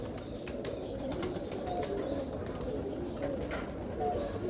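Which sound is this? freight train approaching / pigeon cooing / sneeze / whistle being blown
pigeon cooing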